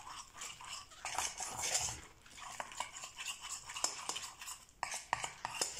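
A utensil stirs cold yogurt into chocolate, producing continuous close scraping and clinking against the bowl with rhythmic strokes, and no talking.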